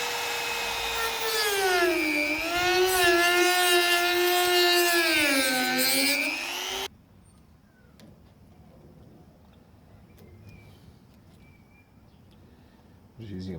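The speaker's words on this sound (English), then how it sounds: "I'm just using a blade just to get through some of this." A blade cuts through an old 1957 Plymouth steering wheel, a loud whining power tool with a pitch that sags and rises as it bites, then stops abruptly, leaving quiet handling noises before the tool briefly starts again.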